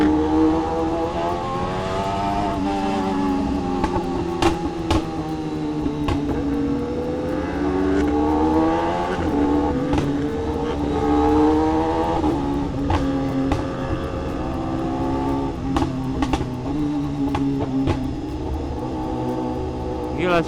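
A BMW S1000RR superbike with a heavily modified full-carbon build and aftermarket Gamake exhaust runs loud and steady, its engine note rising and falling through repeated revs and ride-by surges, with a voice speaking at times over the constant roar.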